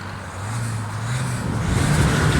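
A new, red-plated Isuzu Blue Power 1.9 pickup with a stock exhaust and an add-on engine box rumbles at close range, its low engine drone rising slightly as it revs, with no voices.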